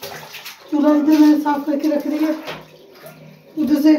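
Cold tank water running from a tap while dishes are washed, gushing in bursts with pauses, as someone speaks briefly over it.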